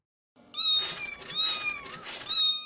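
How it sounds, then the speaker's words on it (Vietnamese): A cartoon cat lets out three long, mournful meows in succession, clear and close, with short gaps between them. "Con mèo đêm nào cũng kêu. Ai, nghe tiếng kêu của nó buồn quá,"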